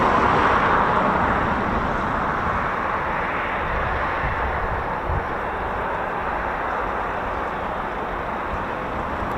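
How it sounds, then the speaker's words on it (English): An Embraer ERJ145 aircraft engine runs at the RAF Coningsby airbase as a steady broadband roar and hiss, fairly loud and constant, with a slight fade toward the end and no talk. "So the engine that was running is actually the Embraer."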